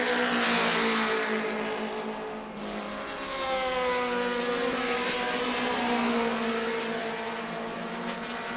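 Race cars battling side by side on the New Smyrna racetrack, loud layered engines revving with shifting pitches as they drag race into a turn, a brief dip midway before the roar swells again.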